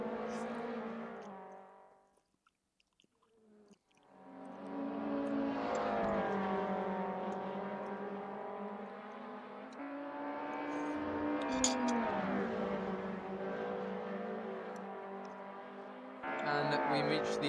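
AF3 race cars at the Dijon-Prenois circuit, their engines droning close by and rising and falling through gear changes, with a brief lull before the sustained revving resumes.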